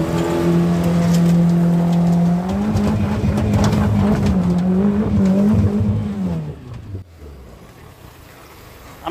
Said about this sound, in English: I'm gonna hit the rev limiter.